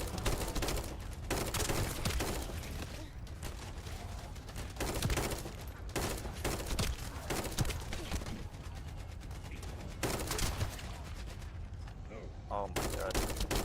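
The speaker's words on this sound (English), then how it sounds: "this sniper rifle hits" A sniper rifle fires repeatedly in a video game, with loud sharp reports among dense overlapping gunfire and mechanical game effects that run continuously throughout, with a voice heard faintly in the mix.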